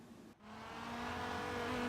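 AMC Gremlin X in Forza Horizon 3 driving off with a steady engine drone that builds in loudness as it accelerates, close and continuous with no talk.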